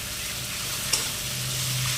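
A fish head is turned in hot spices in a pan: soft stirring over a steady sizzle, with one sharp utensil tap partway through and a low rumble as the cooking continues.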